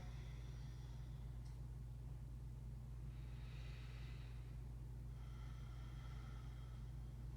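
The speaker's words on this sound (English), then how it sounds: "Let's take 2 breaths here" Slow, deep breaths during a morning yoga flow: two long airy exhalations, moderately close, over a constant low hum, with no talking.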